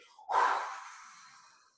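A single slow exhale through an open mouth, close and breathy, rising quickly to a soft rushing whoosh and fading out gradually over more than a second in a quiet setting.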